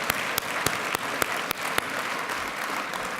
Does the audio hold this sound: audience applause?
yes